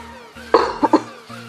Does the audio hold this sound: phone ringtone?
no